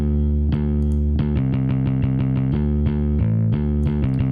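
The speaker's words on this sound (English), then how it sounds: "CLA2A compressor, which I actually like a lot on the bass" A loud, dense bass line run through a CLA-2A compressor, playing a rhythmic pattern of plucked notes, thick and evenly compressed, with a slightly gritty tone.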